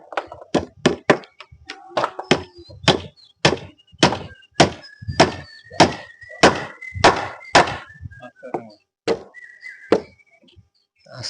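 Wooden formwork boards for a lintel casting being hammered on a construction site, a steady run of about twenty loud, close thuds at a quick even rhythm with a faint whistle-like tone in between.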